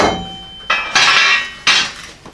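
Sharp metallic strikes ring out, a few spaced hammer blows on a metal fender flange of a Model A hot rod truck, short bright decays, close and loud with quiet gaps between.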